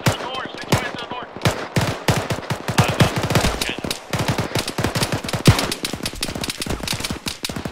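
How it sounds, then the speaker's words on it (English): Rapid automatic gunfire rattles in dense, loud bursts throughout a platoon mission, with brief gaps between volleys. "Switch fire to the north."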